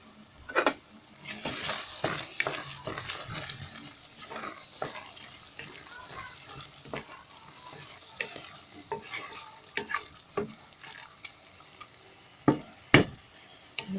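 Crushed garlic frying in a pan while a utensil stirs it, giving a steady close sizzle broken by scraping clinks and a few sharper knocks, with no talking.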